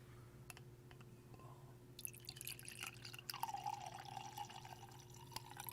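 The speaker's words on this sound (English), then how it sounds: "Let's do an ASMR wine pour." Wine trickles and splashes into a glass in a quiet room, a soft, close pour that starts partway in and runs steadily with small gurgles.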